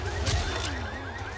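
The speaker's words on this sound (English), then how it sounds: "Watch out, some cars set up alarm." A car alarm in the video game Left 4 Dead 2 wails in rising and falling sweeps over low game rumble, with a couple of brief whooshes near the start.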